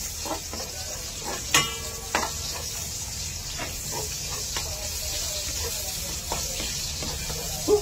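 Onions sizzle steadily in a pan for beef caldereta, a soft continuous frying hiss broken by occasional stirring clinks and scrapes, close and moderately quiet with no talking.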